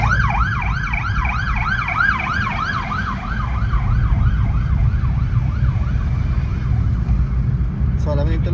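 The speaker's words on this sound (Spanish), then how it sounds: "Además porque viene una ambulancia aquí al lado." An ambulance siren wails in a rapid repeating up-and-down pattern as it passes through busy street traffic, loud and close over a steady engine rumble.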